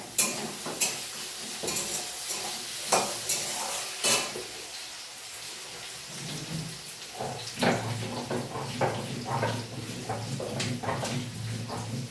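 A pan of food cooks on the stove, probably a fish curry, with a sizzling, bubbling bed of sound punctuated by spoon knocks and stirring scrapes, close and fairly loud throughout.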